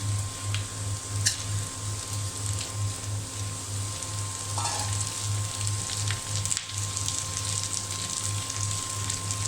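Chopped bottle gourd frying with already-fried onions in a pan gives a steady, close sizzle like light rain, with a low rhythmic hum underneath and an occasional soft clink.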